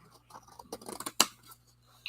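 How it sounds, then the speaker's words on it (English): Scissors snip through cardstock at a craft table, a soft run of small cuts ending in one sharp, close snip, then quiet. "I'm going to go ahead and cut this cardstock down a bit."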